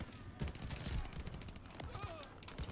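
Rapid gunfire rattles in a Call of Duty Vanguard multiplayer match, dense bursts of shots layered with game effects and some speech.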